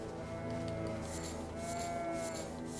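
Goats bleating and lowing in the video game Elden Ring, a steady run of animal calls close by over a continuous ambient game bed, with no talk.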